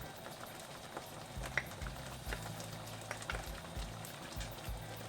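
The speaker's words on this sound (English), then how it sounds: "Now we'll cover it and let it boil for 10 minutes." Dal dhokli simmering in a pot, a faint steady bubbling and soft low gurgles with occasional small pops, quiet and continuous, no talking.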